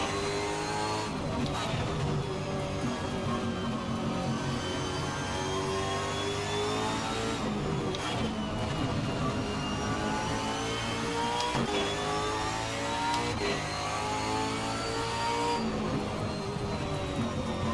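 Supercar engine in the Assetto Corsa racing game at Tamiami Park, a steady loud drone that rises and falls as it revs through corners, with brief dips at gear shifts and no talk.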